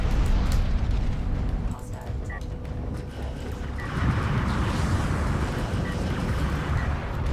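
Artillery barrage explosions from the RTS game Homeworld: Deserts of Kharak: a dense, continuous rumble of booms with a surge partway through, under excited game commentary.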